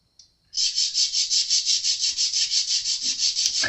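Sandpaper rubbed back and forth on an acoustic guitar part in close, loud, steady strokes, about five per second, a dry scratchy rasp that keeps a regular pulsing rhythm throughout.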